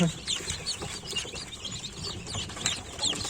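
Busy high-pitched peeping from a crowd of Barbu chicken chicks in an incubator, many overlapping chirps throughout, close by and fairly quiet.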